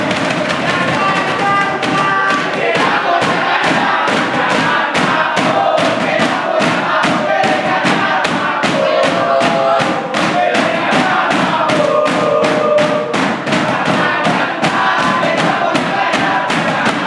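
Supporters of a candidate pair at an Indonesian election event chant and cheer together, with rhythmic thumping beats running steadily underneath for a long, dense stretch.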